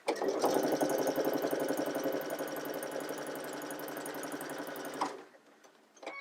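A sewing machine stitches a quilt block seam in a steady rapid hum of needle strokes for about five seconds, close and loud, then stops. A few faint handling clicks follow, with no talking.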